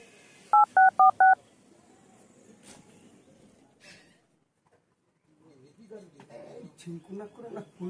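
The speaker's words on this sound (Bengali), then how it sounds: "ভাস্করে ফোন করে দিই" Four quick touch-tone key beeps as a phone number is dialed, close and distinct, followed by quiet room sound and then people talking, with a bird cooing faintly in the background.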